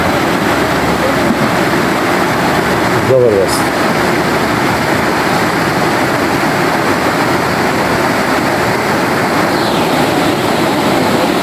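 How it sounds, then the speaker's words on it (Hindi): A swollen, muddy mountain stream at Kala Pani near Harno on the Thandiani road, Abbottabad, rushes loudly and continuously after rain, a steady close roar with someone speaking only briefly. "बारिशों के बाद बहुत ही ज़बरदस्त जो है ना वो पानी का बहाव भी तेज़ है"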